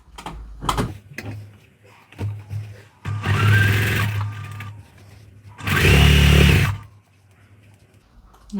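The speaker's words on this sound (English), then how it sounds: "So then we'll just sew these together." Sewing machine joining quilt block pieces for a sampler quilt: two short, loud whirring bursts of stitching separated by handling sounds and soft fabric rustles.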